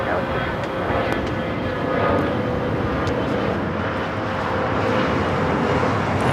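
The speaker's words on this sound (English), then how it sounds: "as soon as that 777 freighter takes off" An Eva Air Cargo Boeing 777 freighter takes off at LAX, a steady loud engine roar with a faint whine held evenly throughout, rising slightly midway.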